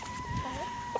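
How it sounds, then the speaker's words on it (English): Chickens cluck softly in the background over a steady hum, with a few brief clucks standing out near the end. "Chickens."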